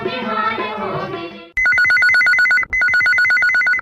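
A telephone rings on an Akashvani Raipur phone-in show of Chhattisgarhi songs: a song ends, then loud electronic trilling rings come in two bursts with a brief break between them.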